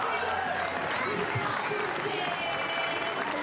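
Steady crowd applause at a Newcastle Jets women's football match as the teams walk out onto the pitch, a dense continuous roar of clapping from a large stadium crowd, heard without distinct talk over it.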